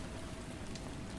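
Steady rain falls in an unbroken, even wash of patter and hiss, close and fairly soft, with no voices and no distinct single drops standing out.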